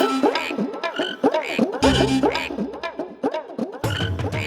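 Frogs croaking in a series of loud, close, throaty calls, repeated in an irregular rhythm, with deep resonant croaks sounding alone throughout.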